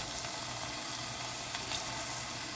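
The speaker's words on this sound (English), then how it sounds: "Hear the sizzle?" Green beans sizzle in a hot frying pan, a steady close crackle with faint spits, no voices.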